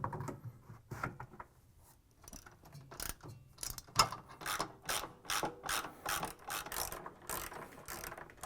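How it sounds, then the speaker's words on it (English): A ratchet clicks in repeated short bursts while driving 13mm bolts that hold the bottom counterweight on a Whirlpool/KitchenAid/Maytag washer. The pawl clatter is close and steady across several strokes, with brief pauses between them and no talk. "Now install the bottom counterweight and secure it with 3 13mm bolts."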